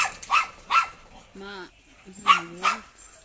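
A dog gives a few short whining yips between brief sharp noises, close by, with pauses between them.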